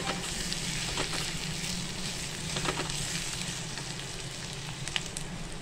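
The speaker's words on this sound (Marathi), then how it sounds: "अशा प्रकारे आपली लसूण खोबऱ्याची पेस्ट पण झालेली आहे, चांगली छानपैकी परतून झाली." A garlic and coconut paste fries in oil with onions in a pan, giving a steady soft sizzle with faint crackles and occasional light stirring scrapes, fairly quiet and close, no voices.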